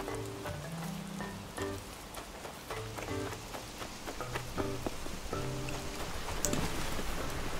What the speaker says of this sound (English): And it's raining pretty hard.